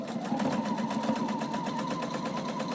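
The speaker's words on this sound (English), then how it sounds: "while I top stitch through that bit." A sewing machine top stitches through the fabric and elastic of a face covering, running in a quiet, steady, rapid mechanical rhythm for a few seconds with no voices.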